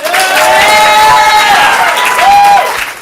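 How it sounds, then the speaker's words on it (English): A live improv comedy audience claps loudly, mixed with cheers and whooping shouts that rise and fall over the continuous applause. "applaud now"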